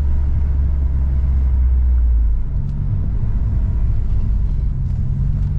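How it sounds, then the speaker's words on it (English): A BMW E90 with a built engine and 8HP70 gearbox swap pulls uphill, its steady low rumble loud and close inside the car and deepening slightly partway through. "the engine sounds all right"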